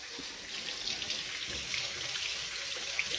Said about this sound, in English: I'm once again going to wash my hands.